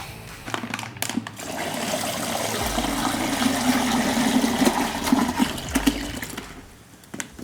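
Water rushing and splashing as it is poured into a brine bag holding a 15-pound turkey, a loud continuous gush lasting several seconds before tapering off.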